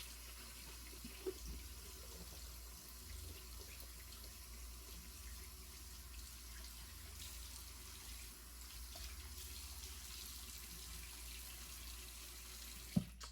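Water from a tap runs steadily and quietly into a shaving bowl holding soap for a wet shave, a faint continuous hiss with no talk.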